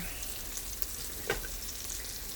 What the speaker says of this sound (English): this is half of an onion that I am putting in there